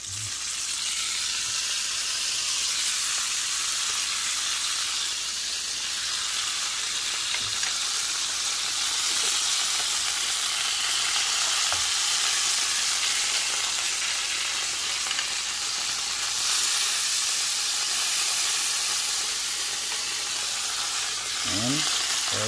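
Butter sizzles steadily in a frying pan, a continuous close hiss with a few faint utensil taps, no talking over it.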